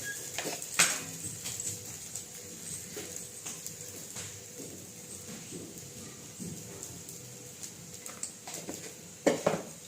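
Sabudana khichdi with salt being stirred in a pan: a spoon scrapes and taps against the metal in irregular strokes, with a few sharper clinks and a faint kitchen background hum.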